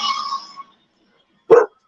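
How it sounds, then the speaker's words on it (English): A dog barks once in the background of an online group call, a short, sharp bark heard faintly through a participant's microphone after a brief earlier yelp-like sound. "Is that you with the dogs in the background, REPHAIAH?"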